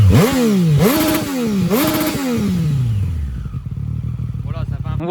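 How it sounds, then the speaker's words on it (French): A 2020 Triumph Street Triple RS motorcycle fitted with an exhaust baffle revs loudly three times in quick succession, each rise and fall close by, then settles to a lower idle with some mechanical clatter. "Donc on se retrouve avec le bruit de la moto. Donc là je suis avec la chicane"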